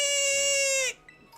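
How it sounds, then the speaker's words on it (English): A cat gives one long, steady, high-pitched meow that lasts close to a second and then cuts off, leaving a quiet room with faint rustling. "I think y'all might be able to hear the kitty in the background."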